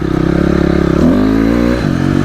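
A motorcycle engine revs loudly and close during a wheelie attempt, its steady throbbing pitch rising sharply about halfway through, then easing and climbing again, with no talk over it.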